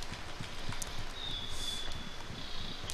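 A horse in the Mortal Online game walks with steady, even clip-clop hoofbeats at close range, laden with gear, over a soft ambient background and a brief high tone.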